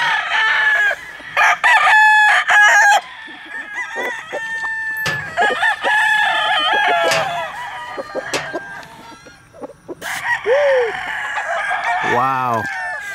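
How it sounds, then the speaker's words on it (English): A Blake Gray gamecock rooster, pure-bred and mostly Sweater blood, crows loudly several times at close range at a fowl fair, with clucks and other birds around it and people talking nearby. "That's a picture rooster there."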